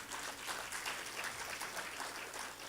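A church congregation claps in praise during a sermon, a soft, continuous wash of many hands heard from some distance, steady and even throughout with no speech on top.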